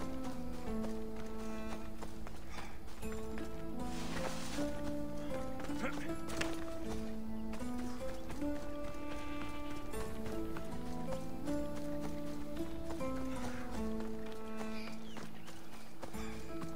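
Horse hooves clop rhythmically at a gallop in Assassin's Creed Odyssey, a steady run of hoofbeats under game music and chatter.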